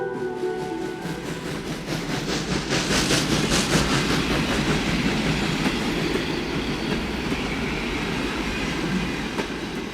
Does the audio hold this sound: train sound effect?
yes